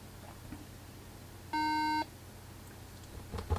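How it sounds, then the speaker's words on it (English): A single clear electronic beep of about half a second from a 17-inch Early 2011 Apple MacBook Pro signalling a RAM error during a repair for liquid damage and GPU failure, standing alone over quiet background hiss. "There you go, there's a beep for RAM."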